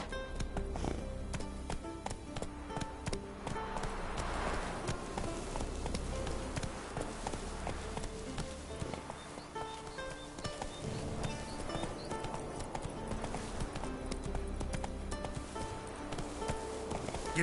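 Hooves of the horse Roach clip-clop in The Witcher 3, a steady, fairly soft rhythm beneath a continuous bed of music and ambient game sound.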